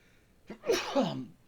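A single loud sneeze up close, a quick intake of breath then a sharp burst that fades out.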